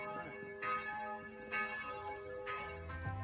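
A church bell in a tower in a Danube river town tolls three times at an even pace, each stroke ringing out over a steady wash of outdoor ambience.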